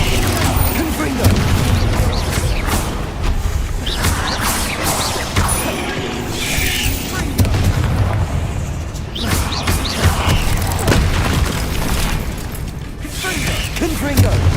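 Repeated booming blasts of the Confringo fire spell in the video game Hogwarts Legacy, mixed into a dense, continuous battle din with crashes and clattering effects, with a voice talking over it.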